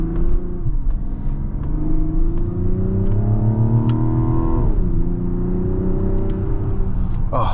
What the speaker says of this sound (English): Love this inline-6 sound here.